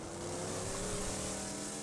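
A steady, low engine drone hums continuously, like a truck idling or cruising in the video game Borderlands 2, with no voices.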